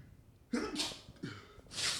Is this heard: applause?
no